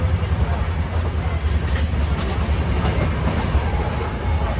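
Brindavan Express running at about 100 km/h, heard from inside: a loud, steady rumbling roar with faint rhythmic wheel clatter continuing throughout.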